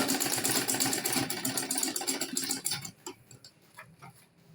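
A sewing machine runs steadily while top stitching a fabric ladies' shoulder bag, a dense rapid whirring that stops partway through, followed by a few quiet clicks and handling sounds nearby.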